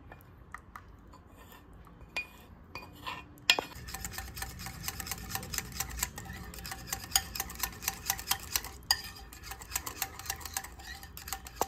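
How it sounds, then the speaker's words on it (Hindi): Melted chocolate is stirred into a wheat brownie batter in a bowl, a steady run of close-up scraping and clinking of a utensil against the bowl that grows busier after the first few seconds, with no talking. "आता हे आपण या मिश्रणामध्ये मिक्स करून घेऊयात।"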